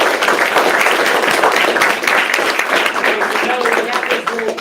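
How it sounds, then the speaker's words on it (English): A crowd at an investor talk series claps in a full, sustained round of applause, with scattered voices cheering through it. "Give a round of applause."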